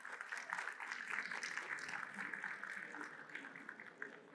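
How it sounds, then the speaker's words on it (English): Applause from a conference audience for a technology team, a steady dense patter of many hands held at moderate, fairly faint level throughout, with no speech over it. "Round of applause, please,"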